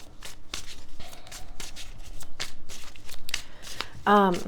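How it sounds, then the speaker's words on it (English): A deck of tarot cards is shuffled in quick repeated riffles, with a fluttery papery rhythm and a brief ringing tone near the end. "we're going to shuffle with a little more intention here."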